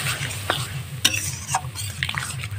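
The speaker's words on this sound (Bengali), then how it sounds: "এবার ভালো করে মশলাটা কষতে হবে।" Spice paste for Bengali chicken curry (murgi jhol) being stirred and fried in a pan with a splash of water, with several distinct scraping strokes against a steady sizzle, close and clear.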